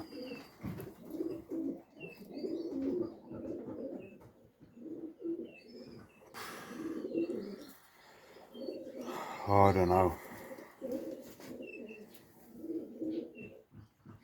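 Racing pigeons coo repeatedly inside a loft, soft and steady throughout, with a brief flurry of louder calls near the middle while someone talks over the birds.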